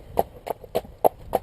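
A horse's hooves clip-clop at an easy walk on a long rein, five even, close footfalls with a steady rhythm and no talk.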